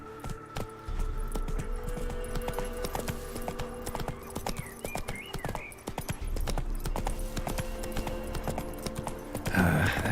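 Roach, Geralt's horse in The Witcher 3: Wild Hunt Next Gen, clip-clops in a steady rapid hoof rhythm, close and continuous, with jingling tack, brief faint game voices and a louder rustle near the end.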